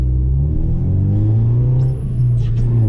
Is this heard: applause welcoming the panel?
no